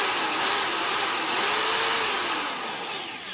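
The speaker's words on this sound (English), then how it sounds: "we got our drill in here, and we're just going to keep drilling this guy out" A power drill whines steadily while boring out a ball joint, a continuous loud motor drone with slight shifts in pitch as it bears down, heard close and alone.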